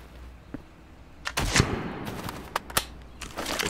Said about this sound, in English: The gunshot audio is nice.